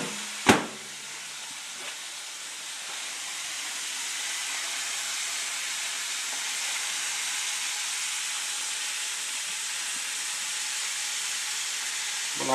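Flour-battered chicken deep frying in oil gives a continuous, even bubbling hiss, opened by a brief sharp clack, holding steady at moderate loudness with no talking.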